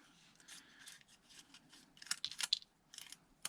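Dry foraged plant seed pods are peeled open by hand, giving brittle crackling snaps that grow sharper and denser toward the end, close and fairly quiet.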